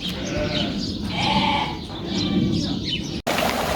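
A flock of sheep bleats repeatedly at close range, tremulous calls overlapping continuously, ending with an abrupt cut.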